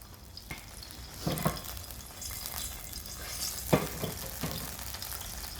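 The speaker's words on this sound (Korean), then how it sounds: "고기와 마늘을 같이 볶아줍니다." Meat and garlic sizzle and crackle in a hot pan, with a few sharp scraping stirs of a utensil breaking up the steady frying hiss.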